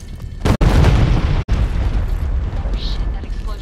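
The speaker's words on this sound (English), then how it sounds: "Shit, that explosion." A loud, deep explosion in the shooter game Homefront: The Revolution rumbles and roars close up, broken by two abrupt cuts, then settles into a sustained low rumble.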